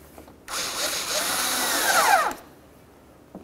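A power tool drives a bolt while a side marker light is replaced on a 2006-2012 Ford Fusion, a loud whirring burst of about two seconds, rising slightly before cutting off, with quiet before and after.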